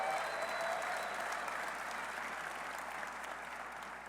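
Audience applause at a West Virginia football introductory press conference, a dense, steady wash of clapping that carries on for several seconds and tapers slightly toward the end.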